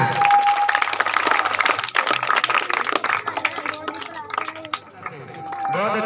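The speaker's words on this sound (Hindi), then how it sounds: "जोरदार तालियां।" Loud crowd applause and cheering at a school gymnastics show for a Punjab Culture Day, a dense roar with voices shouting over it that eases near the end.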